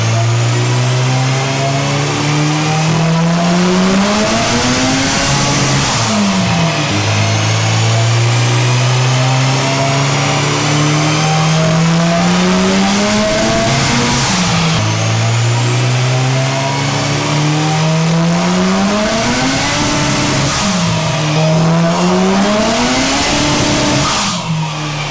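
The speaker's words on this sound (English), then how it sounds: "So the car was spinning on the rollers and we couldn't get a clean power readout." An AWD turbocharged Honda Civic revs hard on a dyno, its tyres spinning on the rollers, engine pitch climbing and falling through repeated loud pulls with a high whine, close and continuous with no talking.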